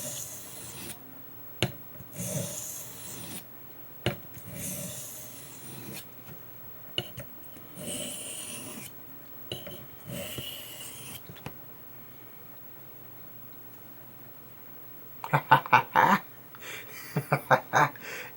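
Wharncliffe knife blade given a light touch-up sharpening, with a series of rhythmic rasping strokes on the edge, about one every second or two, fairly close; a faint quiet stretch follows, then a few sharper scraping strokes at the end.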